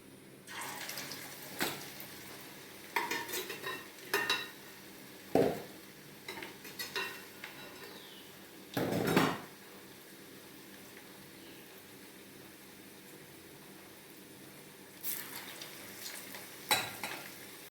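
Onion vadas frying in oil in a village kitchen give a soft, continuous sizzle, punctuated by several sharp clinks and scrapes of a utensil in the pan, with no talking.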